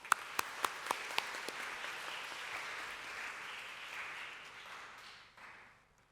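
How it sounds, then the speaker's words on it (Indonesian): A church congregation claps for the music team at a Sunday service. A few sharp individual claps ring out first, then a soft, distant wash of applause that slowly fades away. "Sekali lagi kita berikan tepuk tangan."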